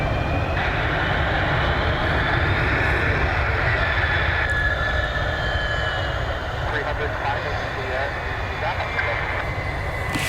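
A Challenger business jet on a test flight gives off a steady, fairly distant engine roar with a faint whine riding above it, while people talk nearby.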